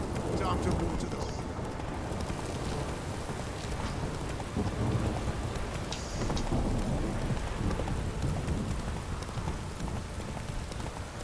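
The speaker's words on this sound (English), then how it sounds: "This downpour's a bastard in it." Heavy rain downpour in The Witcher 3 video game, a steady dense hiss of rainfall with low rumbling underneath, continuous and fairly loud throughout, with no speech.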